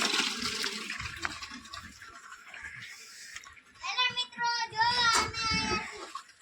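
Rushing water runs steadily, with a voice and other talk over it, then a gurgling, bubbling stretch.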